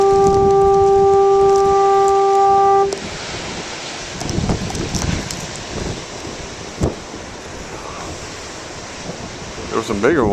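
A foghorn sounds at the shore in snowy weather, a loud, steady, pure-toned blast for about three seconds before cutting off, leaving crashing big waves and gusting wind noise.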